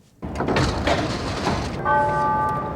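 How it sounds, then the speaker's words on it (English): Public transit doors close on a train or bus, a broad rumbling slide under steady ambient noise, followed by a sustained multi-tone chime at the end. "Doors closing."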